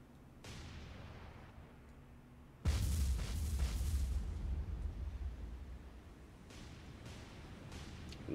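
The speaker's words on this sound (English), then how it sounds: "Magazine explosion." A ship's magazine detonates in the naval war game War on the Sea, a sudden heavy boom that rolls into a long, rumbling roar and slowly fades, with a few sharp pops and cracks afterward.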